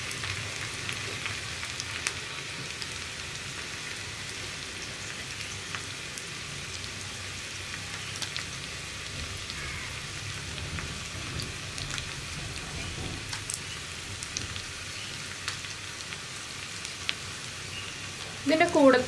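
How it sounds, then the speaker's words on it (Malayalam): Round-cut onion and garlic fry in oil with mustard seeds for a pumpkin curry, a soft, steady sizzle with faint crackles that continues close by, plus a brief clatter at the very end. "നമുക്കിതിലേക്ക് റൗണ്ടിൽ കട്ട് ചെയ്ത് വെച്ചിരിക്കുന്ന ഉള്ളിയും വെളുത്തുള്ളിയും ചേർക്കാം"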